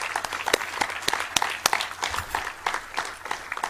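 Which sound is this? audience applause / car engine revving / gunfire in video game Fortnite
audience applause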